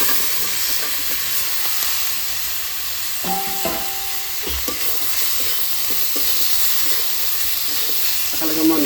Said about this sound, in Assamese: পুরো মাংস ভাজি আছে